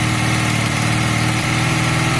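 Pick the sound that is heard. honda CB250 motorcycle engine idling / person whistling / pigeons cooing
honda CB250 motorcycle engine idling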